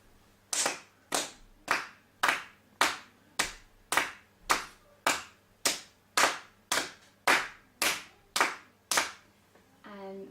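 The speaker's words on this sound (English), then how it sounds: "Okay, so should we clap that together?" Hands clapping a steady one-beat rhythm in a beginner music lesson, about sixteen sharp, evenly spaced claps at a moderate tempo, close and clear in a quiet room, with a brief sound at the end.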